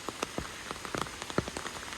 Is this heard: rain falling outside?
yes